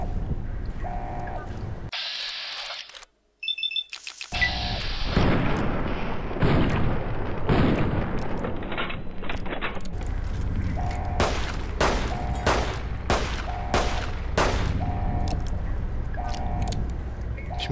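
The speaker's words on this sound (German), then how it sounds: "Echt die Waffe gerade aus der Hand geschossen." Gunfire in the video game Fallout New Vegas, a series of loud sharp shots cracking out one after another over a steady game background, preceded by a brief burst of mechanical and metallic sounds.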